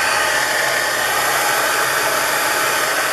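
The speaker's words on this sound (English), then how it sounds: "My air conditioner is in the window" Steady, loud broadband whirring hum of a window air conditioner running continuously, with no changes or pauses.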